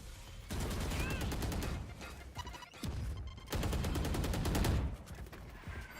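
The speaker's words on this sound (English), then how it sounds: "We can see a lot of gunfire here in the middle of the map." Bursts of rapid rifle gunfire ring out in the middle of the map during a Valorant tournament semi-final match, loud clustered volleys with short lulls between them.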